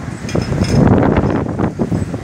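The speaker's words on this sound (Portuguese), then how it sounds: "Só que olha o vento" Strong wind blusters at an outdoor motorcycle rock event in Boa Esperança, Minas Gerais, a loud, gusty rush buffeting the microphone with faint clinks in the background.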